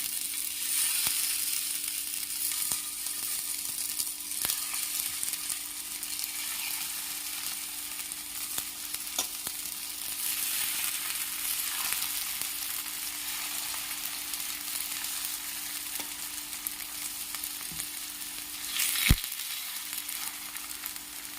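Slices of bitter gourd fry in coconut oil in a pan, giving a steady, close sizzle and crackle throughout, with a few light clicks and a sharp tap near the end.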